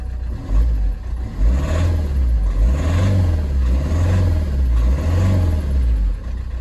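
A car engine revs after a simple repair and sounds rough and tractor-like, with a loud, low, rhythmic rumble that swells and falls in repeated rev cycles close by.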